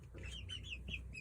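Orpington hens and young Brahma chicks cluck and chirp together, a steady run of short, high calls close by over a low background hum.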